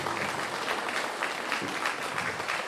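Audience applause greeting carol singers at a Christmas caroling event, steady dense clapping throughout at moderate level, fairly distant and even, no voices standing out.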